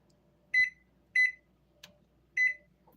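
A kitchen oven's timer emits three short, bright electronic beeps as it is set, evenly spaced and close by, with a faint click in between and no talking.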